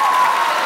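A studio audience at a televised Rubik's cube show bursts into a brief, dense round of applause, loud and close.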